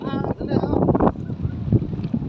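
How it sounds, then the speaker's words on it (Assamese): Wooden rowing boat on the Dawki river in Meghalaya, with wind buffeting the microphone and water noise throughout, while people talk close by. "ৰিভাৰত আমি ব'টিং কৰি আছোঁ"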